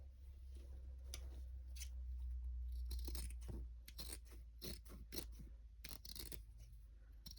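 Scissors snip through needlework fabric in a quiet room, a series of soft, crisp cuts arriving in irregular clusters over a low steady hum.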